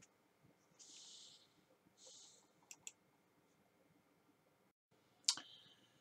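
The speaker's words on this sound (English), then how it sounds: "You want to click on task manager, that'll do it." A computer mouse gives a few faint, sparse clicks in a quiet room, with soft rustling between them and one sharper click near the end.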